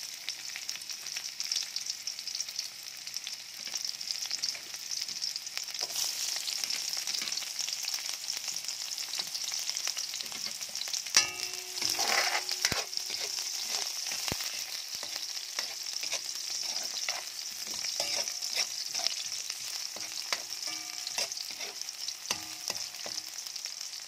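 Onions sauté in a pan for squash and string beans cooked in coconut milk, a long, fairly soft frying sizzle with occasional clinks and scrapes of stirring in the middle.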